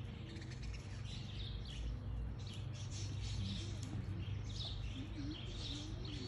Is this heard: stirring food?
no